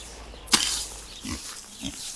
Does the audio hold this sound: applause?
no